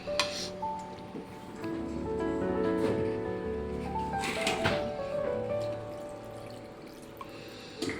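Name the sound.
pouring a small tea glass of water into curry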